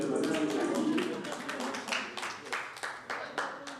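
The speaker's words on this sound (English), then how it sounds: "Can you clap for me?" An audience at an exchange-program gathering claps in scattered, uneven bursts, the sharp individual claps standing out against a softer murmur and thinning toward the end.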